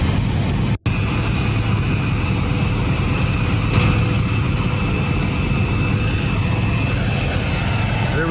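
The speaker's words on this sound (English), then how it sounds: "Here is the moment that Todd captured on the tarmac, Air Force One and President Trump departing" Air Force One, a jet, runs on the tarmac as it departs, giving a steady, loud engine roar with a constant whine, broken once by a brief dropout.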